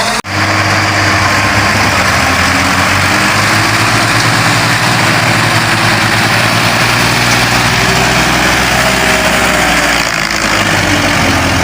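A tractor engine starts and then runs at a loud, steady idle, a thick continuous rumble that fills the whole stretch with no talk over it.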